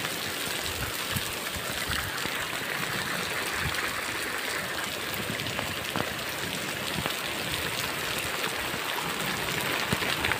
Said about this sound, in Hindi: बारिश ज़्यादा हो गई